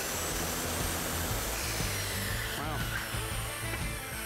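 A power saw cuts steadily through 2-inch material while a linear shower drain with PVC is installed, a loud, continuous whining rasp that runs the whole time without a break.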